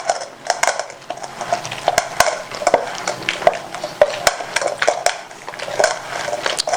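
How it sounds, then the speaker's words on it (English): A spoon mixing powders into black soap, rapid repeated scraping and clinking against the container in an uneven rhythm, close and fairly loud throughout. "So I go add them here and I go mix my soap together."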